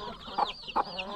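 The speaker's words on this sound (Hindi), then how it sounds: "अभी देखना एकदम से मुर्गे बाहर आएंगे सब।" Chickens cluck in short, bright bursts, two or three clear calls spaced about half a second apart, close by over a faint background.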